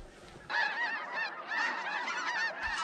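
White-fronted geese (specks) honk during a duck and goose hunt, many overlapping calls forming a loud, continuous chorus close by after a quiet start.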